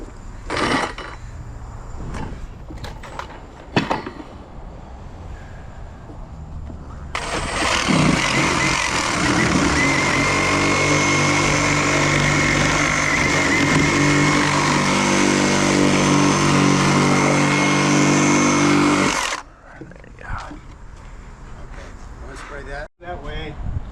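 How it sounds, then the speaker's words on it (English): A Sawzall reciprocating saw cuts steadily for about twelve seconds at a building remodel, a loud, continuous buzzing rasp that starts abruptly and stops sharply, with scattered clanks and knocks before and after. "Here, I can go in with the Sawzall."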